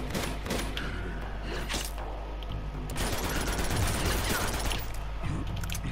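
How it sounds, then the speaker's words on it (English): Dense gunfire during combat in the video game Uncharted 2: Among Thieves, with a steady barrage of overlapping shots and booms throughout. "I don't even know why I'm bothering shooting him."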